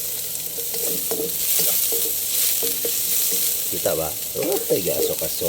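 Onions frying in a very hot pan for a home chicken curry, with a steady loud sizzle and occasional stirring scrapes while people talk over it.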